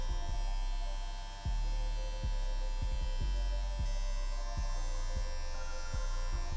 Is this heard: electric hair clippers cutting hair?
yes